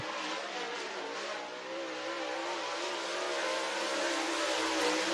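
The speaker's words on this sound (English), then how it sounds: "Green flag is out for Zach Mitchell, final driver of Group A" A race car lapping North Georgia Speedway at speed, its engine a sustained, fairly loud drone with a gently wavering pitch that swells slightly toward the end, steady throughout with no voices.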